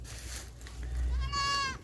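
A goat bleats on a farm amid a banana harvest, its wavering, harmonic cry rising loud and close in the second half over a low rumbling background.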